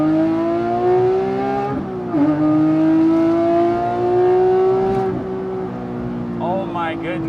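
A Porsche 997.2 GT3 RS with the 3.8L Mezger flat-six accelerating on track, loud rising engine notes climbing through gears with quick shifts, then a brief rev-match blip near the end.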